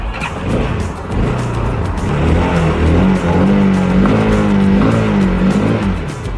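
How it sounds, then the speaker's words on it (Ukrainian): A Loncin motorcycle engine idles loudly and steadily nearby, its low rumble rising slightly in pitch midway, with no voices. "І наша постійна рубрика звук мотору."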